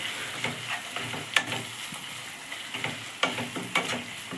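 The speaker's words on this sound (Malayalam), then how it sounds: "നമുക്ക് നന്നായി ഇളക്കി കൊടുക്കാം" Beef macaroni sizzles softly in a pan while a spoon stirs it, with a few sharp scrapes and clinks against the metal standing out over the quiet frying hiss; no one speaks.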